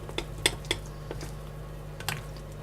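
Tamale pie ingredients, including jalapeno, being mixed by hand: sparse soft clicks and wet squishes of a spoon in the mixture, quiet and close over a low steady hum.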